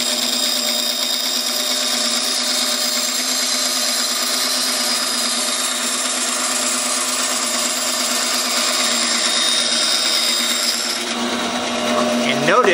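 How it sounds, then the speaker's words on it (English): A band saw cuts through wood with a steady, continuous whine. The cutting sound stays level throughout and shifts slightly near the end. "ease my way in until I hear or see a little bit of sawdust, and then begin to progress it forward into the cut"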